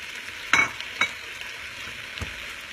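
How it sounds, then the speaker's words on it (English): Shrimp and vegetables in a stir-fry pan give off a steady soft sizzle, broken by a few sharp clinks and scrapes from stirring, close and moderate in level. "now that our vegetables are really cooked, I'm just going to add our shrimp back in"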